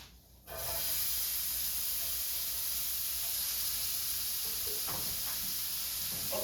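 An onion hits a hot pan and starts sizzling, a sudden loud hiss that settles into a steady, close frying crackle with a few small clatters.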